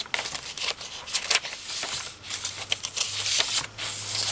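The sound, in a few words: typing on an old typewriter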